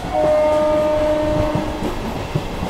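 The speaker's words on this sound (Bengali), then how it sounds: "আমার ট্রেন ছেড়ে দিল মেচেদা রেলওয়ে স্টেশন থেকে" A local train pulls out of Mecheda railway station on the Howrah–Digha line, its loud steady rumble and wheel clatter rising with a sustained horn tone early on, close and continuous throughout.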